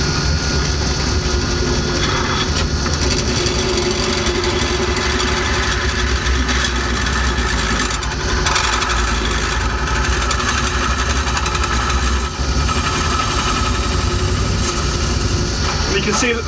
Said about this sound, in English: what I need to do now is to hollow out at an angle